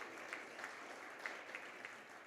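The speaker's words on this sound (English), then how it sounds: "Round of applause." An audience at a parents' meeting claps steadily, a soft, even wash of many hands with faint individual claps, heard from a distance and without speech.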